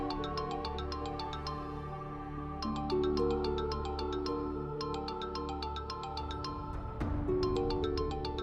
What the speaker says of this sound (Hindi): मरियम का फोन।